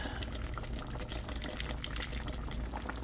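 Tomato sauce is poured into a cooking pot of pork asado, a quiet, steady liquid splash and gurgle lasting a few seconds, with no voices.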